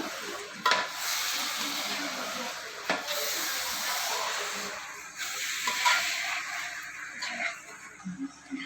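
Chitti muthyalu rice is stirred into a pot of chicken pulao, soft scraping and rustling with a light sizzle and a few spoon knocks against the pot.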